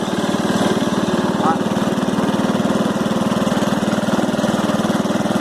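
An old, rough 1968 vehicle engine that needs carburetor cleaning runs at a steady, fast idle, its close, even chugging pulse continuing without a break, with a voice briefly audible over it.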